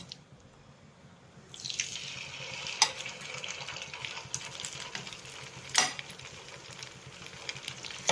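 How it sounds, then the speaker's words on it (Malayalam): Chicken pieces on the bone hit hot oil for chilli chicken, starting a busy bubbling sizzle after a quiet moment, with a few sharp spatters and stirring clinks over several seconds. "എണ്ണ തിളച്ച് വെച്ച് വന്നിട്ടുണ്ട് നമ്മുടെ ചിക്കൻ ഇതിലേക്ക് നമുക്കിടാം"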